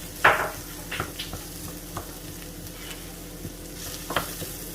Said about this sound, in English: I'm going to mix all this together.